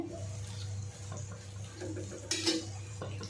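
Dried bombil fish is stirred and sautéed in a pan, with close scraping and light metallic clinks repeating steadily over a low background hum.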